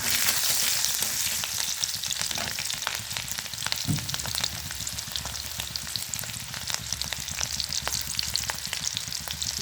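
Garlic and green chili frying in leftover oil in a wok, a steady loud sizzle with occasional stirring clicks and scrapes from a spatula, no voices.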